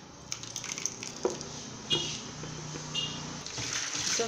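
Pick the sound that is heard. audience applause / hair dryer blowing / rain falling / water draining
water draining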